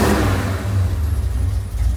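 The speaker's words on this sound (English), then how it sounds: "You give it gas, it misses a little bit." A $500 Chevrolet S10 with a V8 and a carbureted engine revs loud and close, its low rumble wavering and stumbling as it misses under throttle, with no talk.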